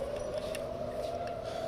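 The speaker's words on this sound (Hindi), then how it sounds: "इस वक्त आप सायरन की आवाज़ सुन सकते हैं।" A steady, droning air raid siren wail holds one pitch throughout, moderately loud over faint background noise, in Israel during Iranian strikes.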